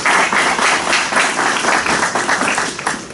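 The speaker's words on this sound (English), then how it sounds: "A round of applause for our first winner." Audience applause at an academic research awards session for the first winner, a dense steady clapping from a room of people lasting the whole moment, loud and close without talk over it.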